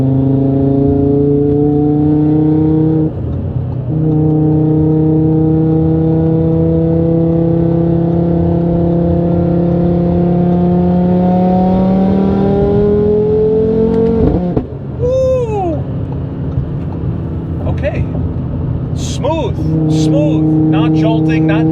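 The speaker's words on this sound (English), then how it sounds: "I have it in manual now, and I'm accelerating back and forth, riding the gears up and down, back and forth" Audi RS3 with 034 Motorsport Street Sport engine mounts, engine and exhaust in manual mode, pulling up through the gears with rising revs, a shift, a sharp throttle blip and renewed acceleration, loud and close from inside the car, with a voice talking over it.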